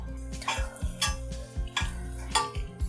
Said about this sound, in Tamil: இதை அப்பப்போ இந்த மாதிரி நல்லா கலந்து விட்டுக்கணும்.